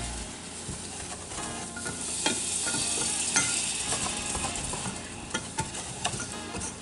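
Apple butter mixed with whole milk being whisked steadily in a pan over medium-high heat, a continuous scraping swish with soft sizzling and occasional sharper clinks of the whisk against the pan.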